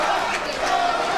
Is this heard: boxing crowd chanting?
yes